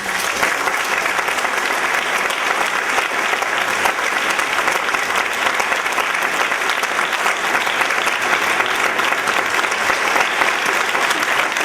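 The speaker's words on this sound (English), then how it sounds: "Let's give him a round of applause." Sustained, dense applause from a conference audience, loud and even from start to finish with no speech over it.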